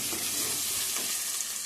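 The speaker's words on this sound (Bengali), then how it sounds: "এদিকে মুরগির মাংসটা কষানো হচ্ছে।" Chicken meat sautéing in a pan gives a steady, loud, close sizzle with faint stirring scrapes throughout.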